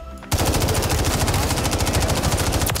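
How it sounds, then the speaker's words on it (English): MTZ gun firing in the Warzone video game, a loud rapid burst of automatic shots in a fast even rhythm, close and dominant, following a brief quieter moment. "What gun is this? This is the MTZ."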